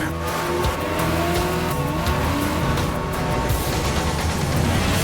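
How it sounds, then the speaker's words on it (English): A 2010 Nissan Maxima sports sedan drives hard, its engine revving up through rising pitch sweeps with tire squeal, loud and close over a dense backing track, no voices. "a sports car."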